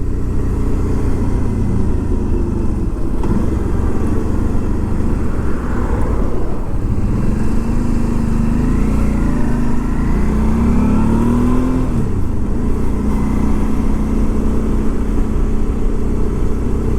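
A Harley-Davidson motorcycle engine while riding, a loud continuous rumble with rising and falling revs and heavy wind buffeting, close and steady with no talking.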